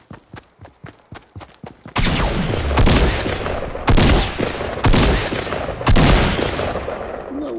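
Rapid gunfire from the video game Fortnite: a few sharp single shots, then a dense, loud burst of continuous automatic fire with heavier blasts punching through, no talk over it.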